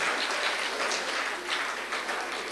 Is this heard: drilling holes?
no